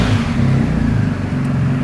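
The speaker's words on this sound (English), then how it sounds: "hopefully you can still hear me above the sound of the bike" A BMW R1250GS motorcycle engine idles with a steady, loud low rumble, close by and continuous, with no talking.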